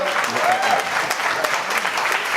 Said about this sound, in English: Can we get a hand clap for Make It Like It Was?